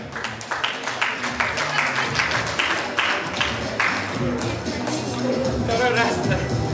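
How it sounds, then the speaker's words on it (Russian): A crowd at a junior breakdance battle claps loudly in sharp, rapid bursts, with cheering and chatter mixed in under and between the claps. "Нужны аплодисменты?"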